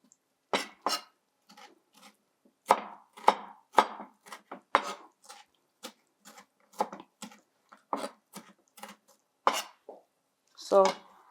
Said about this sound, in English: So I chop the pickled cucumber